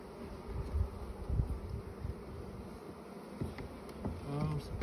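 Honey bees buzzing inside a small nucleus colony hive during a winter inspection: a steady, close insect drone with faint handling noises throughout.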